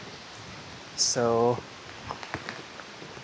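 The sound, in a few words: rain falling at Takeo temple, Angkor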